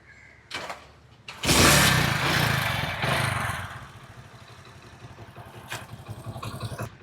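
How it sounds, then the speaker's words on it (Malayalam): A Hero Splendor motorcycle with its engine converted to 110 cc starts after a couple of clicks and roars into a loud rev, then settles into a quieter, steady thumping idle close by. "ജസ്റ്റ് ഞാൻ വണ്ടി സ്റ്റാർട്ട് ചെയ്തിട്ട് വണ്ടിയുടെ എൻജിൻ സൗണ്ട് കൂടെ ജസ്റ്റ് ഒന്ന് കേൾപ്പിച്ചു തരാം കേട്ടോ"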